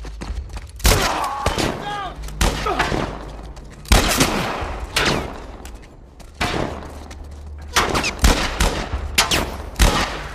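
Gunshots in the PC version of The Last of Us Part I, loud separate blasts with echoing tails, several shots spaced a second or two apart, close, with voices speaking between them.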